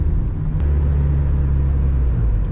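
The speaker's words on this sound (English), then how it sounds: "Here I am coming up to a stop sign, clutch in, 3rd gear, smack the throttle, release the clutch" A manual car downshifting into third gear at a stop sign, with a throttle blip and clutch release, gives a close, loud, steady engine drone with a low rumbling hum throughout.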